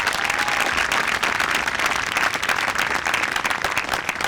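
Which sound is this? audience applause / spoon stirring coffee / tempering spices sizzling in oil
audience applause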